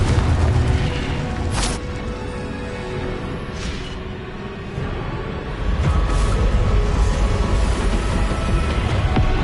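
A Confringo fire spell bursts in Hogwarts Legacy amid a loud, continuous roar of booming blasts and rumbling combat effects, with a few sharp cracks and no voices heard.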